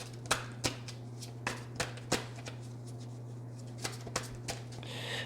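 A deck of tarot cards is shuffled by hand at close range, giving repeated crisp slaps and riffles in an uneven rhythm over a faint steady hum, with no one speaking.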